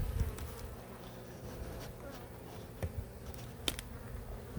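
Honeybees hum at an open hive during an inspection near a feeder where burr comb is being built, a steady low buzz throughout with a few brief knocks and clicks from handling.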